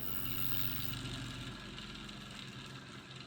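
A Papa Bale pulse motor spinning well over 1,000 RPM gives a steady, close mechanical hum and whir with a fine rapid pulsing. It is quiet and constant throughout, with no voices.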